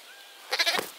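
Lamb in a village setting giving one short, wavering bleat, fairly close and clear after a quiet lead-in, with no talk over it.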